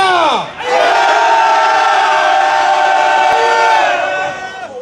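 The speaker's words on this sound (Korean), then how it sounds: "다같이 행진을 위해서 3초간 함성 시작!" A crowd of protesters marching toward Yongsan Station lets out a loud, sustained collective roar, rising quickly after a brief pause and holding steady for several seconds before tapering off.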